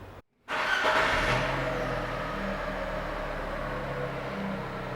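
A Fiat Fiorino Combi car converted to LPG idles close by with a steady low engine hum after a brief silent gap at the start.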